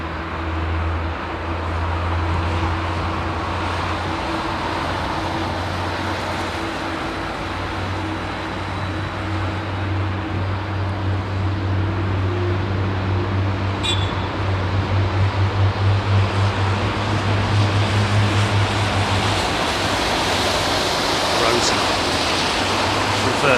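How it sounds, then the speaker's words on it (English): A Rolls-Royce jet engine on an Airbus A380 spools up at Heathrow in low visibility, producing a steady, loud broadband roar with a persistent low hum that builds gradually and holds for the full stretch. "Can you hear that 380 Rolls-Royce engine starting?"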